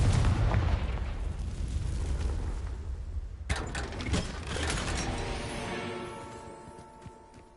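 Booming blast effects from a video game as explosion spells are cast: a heavy rumbling burst fades, then a second sharp explosion hits at mid-clip and rings out with crackling debris and a ringing tail, loud and close with no talk.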